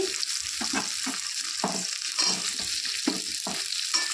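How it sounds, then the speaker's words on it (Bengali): Potatoes and onions fry in a pan with a constant hiss, broken by repeated scraping stirs at an uneven rhythm. No one speaks. "আলুটাকে একটু ভেজে নেব"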